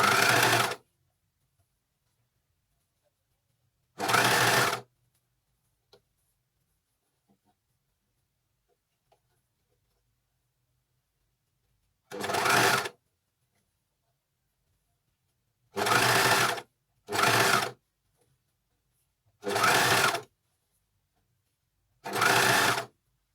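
A Juki coverstitch machine sews a fabric hem in seven separate bursts of rapid, steady mechanical whirring, each a second or two long and separated by silent pauses.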